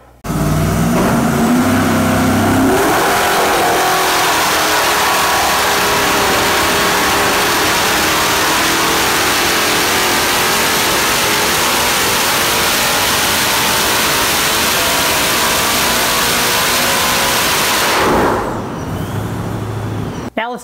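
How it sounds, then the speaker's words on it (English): A Procharger F1A-94 centrifugal-supercharged 6-liter LS V8 screams on a dyno in a long, loud, sustained pull, its steady roar climbing and holding at high revs before dropping off near the end. "Now let's take a look at the power output after we added the Procharger F1A-94 centrifugal supercharger."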